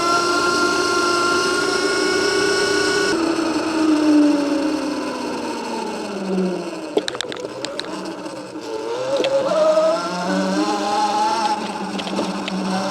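An electric Seemoon off-road dirt bike is ridden over rough ground, its motor whine rising and falling in pitch with throttle changes, loud and close, with bursts of clattering and wind noise and no talking.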